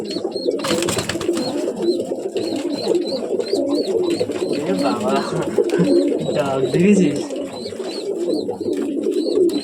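Several pairs of breeding pigeons kept in a home loft for sale coo continuously in a low, rolling chorus that stays fairly loud throughout, with scattered chirps above and a voice speaking in the background.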